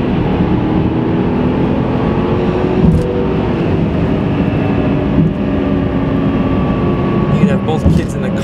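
A 2006 Porsche Cayenne Turbo with Techart tuning accelerates hard in second gear, a loud, steady engine and exhaust roar with a broad low rumble that holds throughout, heard from inside the cabin.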